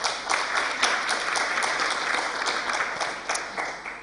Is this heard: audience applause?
yes